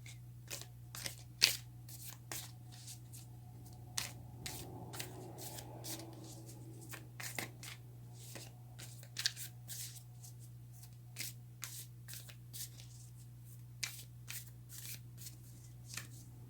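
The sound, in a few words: shuffling tarot cards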